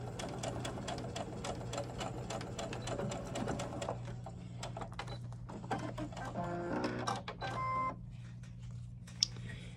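A sewing machine stitching fabric for an 18-inch doll dress runs in steady, close bursts with its motor hum underneath, then stops and starts in shorter runs with a few light clicks and a sharp tap near the end.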